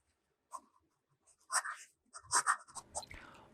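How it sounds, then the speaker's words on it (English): A fine-nib fountain pen writes on the paper of an AmPad Steno notebook in a quiet room. It makes soft, close scratching strokes in short irregular bursts separated by pauses. "The next writing sample is done in an AmPad Steno notebook."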